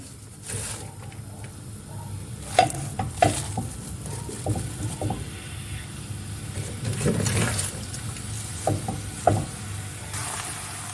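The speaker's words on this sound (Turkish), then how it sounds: "Tavama hemen şöyle 2-3 yemek kaşığı kadar sıvı yağ alıyorum. Ve ıspanakları tavamın üzerine içerisine ilave ediyorum." Fresh spinach hisses and crackles in a pan with a few spoonfuls of oil, soft sizzling under scattered louder rustles and clinks of stirring, close by and without speech.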